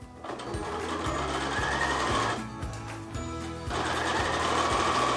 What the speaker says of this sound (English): align the raw edges with your 1/4 inch mark on your needle plate and sew